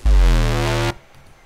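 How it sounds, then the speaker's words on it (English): A single loud, thick synth bass note with OTT processing holds for about a second, buzzy and harmonically rich, then cuts off abruptly into near silence. "that's like the main chunky bass of this track"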